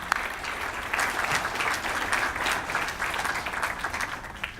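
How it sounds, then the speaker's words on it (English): Steady, moderately distant applause from guests at the 2017 Dayton Literary Peace Prize authors' reception, a dense wash of many hands clapping without a break. "let's give them a hand of applause"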